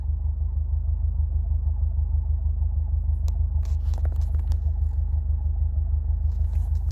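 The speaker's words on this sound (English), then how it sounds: "That's my throw-out bearing." Idling car engine with a worn clutch throw-out bearing, giving a steady low rumble with a faint whirring wobble and a few small clicks, no voices.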